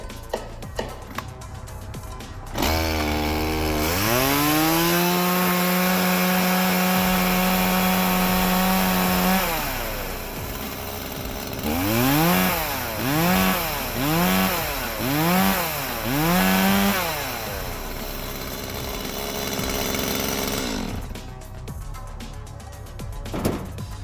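A STIHL MS170 chainsaw fitted with a new bar and chain starts, settles into a loud steady idle, then revs in a series of rising and falling bursts as it cuts into wood, close by with no talk.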